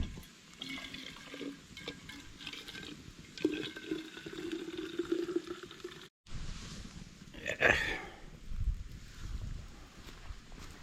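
Water poured from a 750 ml steel water bottle outdoors at a creekside bush campsite, a steady liquid pouring and splashing that runs for several seconds, stops briefly, then resumes with a louder gush.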